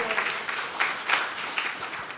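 Audience applause at a neighborhood community forum, a moderate wash of clapping from a crowd that rises and falls in a few swells, heard from within the room without talk over it.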